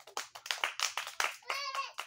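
Children at a church service give a round of hand claps for a classmate, brief bursts of clapping mixed with young voices, ending in a short high cheer or call near the end.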